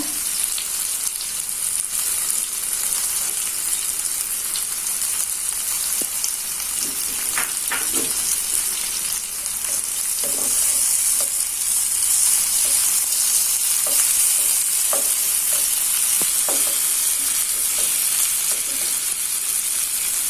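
Spicy sweet catfish grills on a Teflon pan, giving off a continuous loud sizzle and hiss with occasional faint scraping as it is handled.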